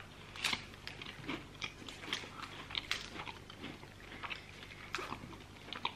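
Close, crunchy bites and chewing on a Snickers bar with nuts, irregular crisp crackles repeating over several seconds with no talking.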